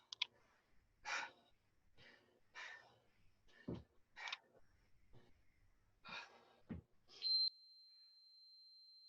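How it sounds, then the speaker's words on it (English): Heavy, effortful breaths during a home workout class of bicep curls and mountain climbers, a series of separate close exhales and inhales with pauses between them, and no talking. "I hope you're breathing as heavy as I am"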